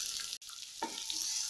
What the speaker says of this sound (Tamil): இந்த வெங்காயம் வந்து நல்லா வதங்கி வரணும்